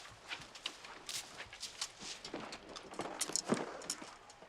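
Horse hooves clip-clop in an uneven walking rhythm, fairly close, with scuffs and rustling around them.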